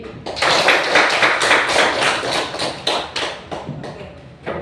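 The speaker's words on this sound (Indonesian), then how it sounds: "Tepuk tangan untuk Osin dengan Evelyn." Students in a classroom clapping, a short burst of dense applause that thins out into scattered claps and taps over about four seconds.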